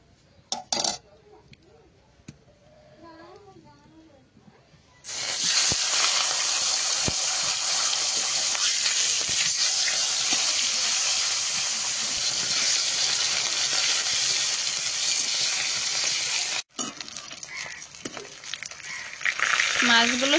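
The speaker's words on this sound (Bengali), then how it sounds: "তেলও গরম হয়ে গেছে, এবার মাছ দিয়ে দেবো।" Fish goes into hot oil in a wok over a clay stove. After a few quiet seconds, a sudden loud, steady sizzle erupts and roars for about twelve seconds, then cuts off, leaving faint kitchen sounds.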